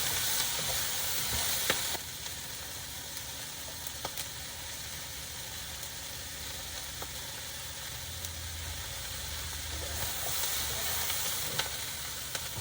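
Broccoli sizzles and fries steadily in a hot pan, a constant crackling hiss that stays fairly loud and even across the whole stretch, with no voices over it.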